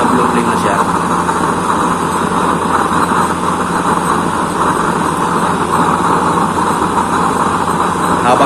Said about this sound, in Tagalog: Habang tumatagal, lalo lumalakas yung ating blue flame.